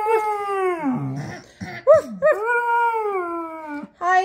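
German Shepherd howling along to a song, long sustained wavering howls broken by short yips, loud and close.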